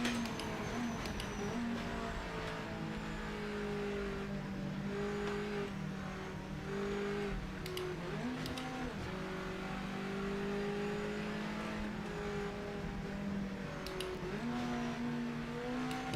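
A Mazda race car in Project Motor Racing revs hard through repeated gear changes, its engine tone rising and falling in steady cycles, loud and continuous throughout.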